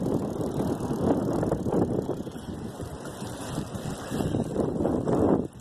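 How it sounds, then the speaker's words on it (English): Strong gusts buffet the microphone during a bike ride on a very windy day, a steady low roar rising and falling in surges, loud and close, with no talk. "It's a really windy day."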